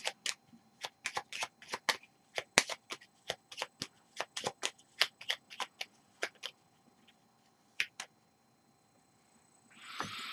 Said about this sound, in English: Shuffle his hit deck.